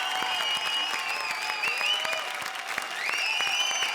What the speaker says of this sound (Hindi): जोरदार तालियां हमारे 6 के 6 ट्रायोस के लिए